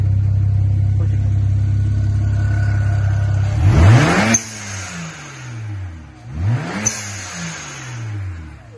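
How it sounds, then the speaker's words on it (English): Warmed-up BMW 335i with a twin-turbo N54 engine and an HKS blow-off valve: a steady idle, then two hard revs that rise and fall about two seconds apart, each ending in a sharp hissing valve release, loud and close, with no talking. "the car is on, it's all warmed up, and let's see what it sounds like"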